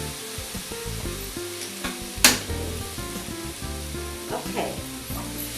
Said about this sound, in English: In goes the meat, the rest of the marinade in there, and give it a good stir.